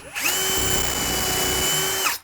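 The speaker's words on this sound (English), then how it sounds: "I'm gonna just step up the drill bit one size." A power drill bores into a wooden cabinet face frame with a stepped-up bit, a loud steady whine lasting about two seconds, close by and alone without talk.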